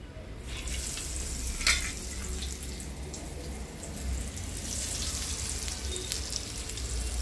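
Semolina-coated surmai (kingfish) pieces frying in hot oil give off a steady, close sizzle with a brief sharper crackle as a fresh piece goes in, and no one speaks.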